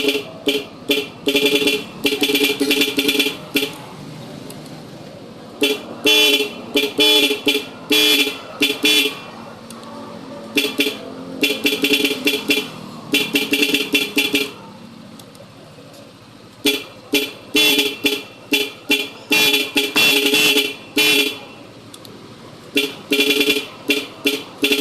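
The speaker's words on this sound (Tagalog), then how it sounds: "tapos na natin install yung 10 towns na busina." A 10-tone horn fitted to a Yamaha NMAX scooter blares in repeated loud bursts of rapid multi-tone honks, separated by short pauses, with brief speech between sequences.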